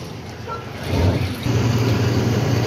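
Large 12-wheel trucks driving out of a loading yard, a steady low engine rumble that grows louder after the first second and holds, close by.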